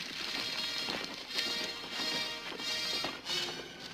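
Horses move nearby, their hooves clip-clopping in a loose, uneven rhythm of soft taps over a faint outdoor background, with no talk.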